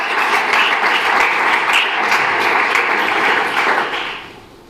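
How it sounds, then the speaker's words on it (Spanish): Strong, sustained applause from a church congregation during a sermon, a dense, loud clatter of hands that holds evenly for about four seconds and then fades out. "¿Cuántos dan un fuerte aplauso a aquel que vive y que reina por los siglos?"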